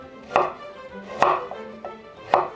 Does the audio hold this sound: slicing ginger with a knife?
yes